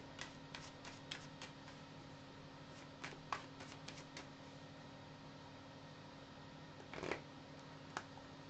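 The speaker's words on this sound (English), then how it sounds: "Let me shuffle the cards, people" Tarot cards being shuffled by hand in a quiet room, with soft riffling bursts and light slaps spread irregularly over several seconds against a faint steady hum, and no one speaking.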